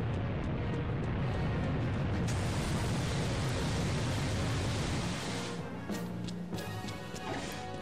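Fire extinguisher blasting in the Backdraft attraction game, a loud, dense hiss of spray roaring steadily for several seconds before easing into thinner bursts and scattered clatter near the end.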